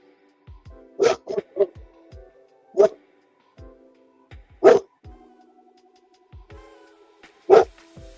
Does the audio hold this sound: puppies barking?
yes